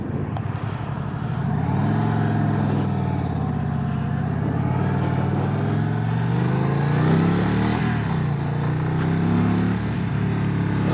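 A 2025 Indian Springfield Dark Horse motorcycle engine rumbles steadily, then rises and falls in pitch as the rider opens the throttle on a side street, loud and close throughout with no talking.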